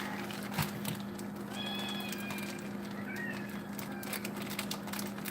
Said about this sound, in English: What are you kittens meowing over?